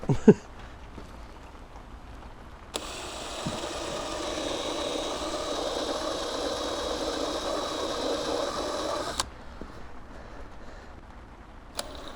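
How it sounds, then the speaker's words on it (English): A drill with a step bit cuts holes in black plastic while driving lights are fitted on a Ford Super Duty truck, giving a steady close whirring grind that starts abruptly, runs for several seconds and then stops sharply. "now we're going to start cutting some holes. Step bit."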